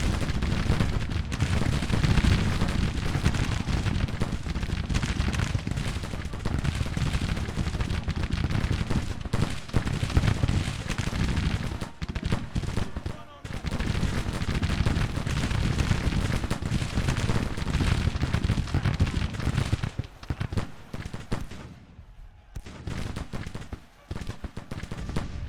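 Continuous musket volleys and artillery fire from a Civil War battle in Grand Tactician, Union campaign at Beverley, November 1861, dense and loud throughout with rolling crackle and heavy booms, dipping briefly near the end.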